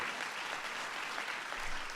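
An audience at a national arts and humanities medals ceremony applauds in a dense, continuous wash of clapping that stays steady and fairly faint throughout, with no voices standing out.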